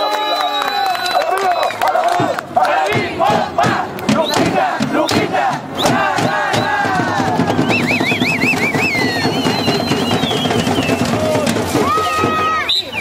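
A large crowd cheers and shouts loudly and continuously, with dense overlapping voices and occasional high whistle-like tones, the roar staying near and steady throughout.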